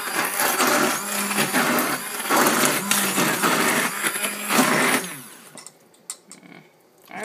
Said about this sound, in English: the food processor works fine for this